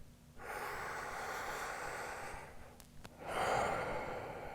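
A deep, slow breath taken during a yoga shoulder stretch for the rhomboids: a long, steady airy inhale, a short pause, then a fuller, louder exhale close to the mic, with no talking.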